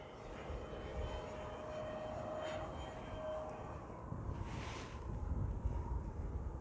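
A Top RC Swift EDF glider flying along a hillside with its electric ducted fan whining steadily at a distance, the tone rising and falling as it passes, amid wind buffeting the microphone.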